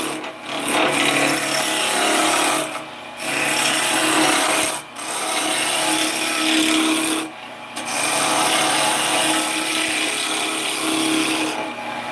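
Wood spinning on a lathe while being shaped into a top, with loud, continuous abrasive rubbing and rasping in long bursts separated by brief pauses.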